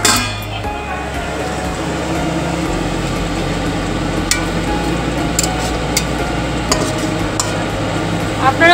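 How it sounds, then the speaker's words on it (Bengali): Onions frying in a pan for Dhaba-style chicken kosha, steady sizzle with scraping and clinking spoon strokes as they are stirred, close and continuous. "এখন পেঁয়াজ দিয়ে ভাজা ভাজা হচ্ছে, তারপরে চিকেন ঢেলে পুরোটা হলে তারপরে দেখাবো"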